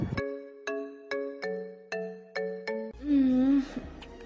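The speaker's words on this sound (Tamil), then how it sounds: "ஹே, ஃபோன் எடு, பிக் தி கால்" Phone ringtone for an incoming call: a repeating bright electronic melody of tonal beeps in a steady rhythm, close and clear, followed by a person speaking.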